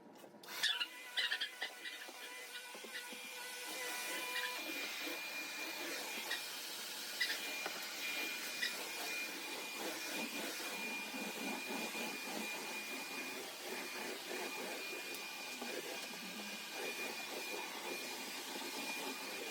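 A vacuum cleaner running while a room is cleaned, a continuous whining roar with a high steady tone. Muffled bumps and shifts sound as it moves around, nearby and moderately loud with no talking.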